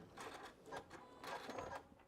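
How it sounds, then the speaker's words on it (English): A sewing machine back stitching through an envelope pillow made from cathedral window quilt blocks, giving soft whirring bursts that start and stop, close but quiet, with no talking. "Okay, we'll back stitch."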